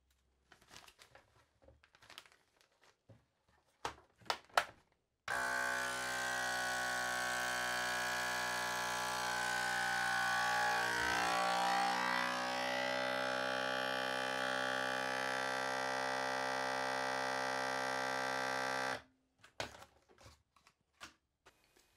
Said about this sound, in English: When I open a bag, I seal the bag up, I vacuum it, vacuum seal it.